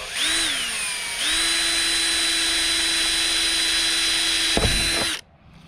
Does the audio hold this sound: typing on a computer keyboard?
no